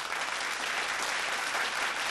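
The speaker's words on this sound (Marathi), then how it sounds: "पाचव्या संघासाठी जोरदार टाळ्या वाजूयात." An audience at a Mangala Gaur women's group competition in Nashik claps steadily, a dense even wash of many hands throughout with no voices.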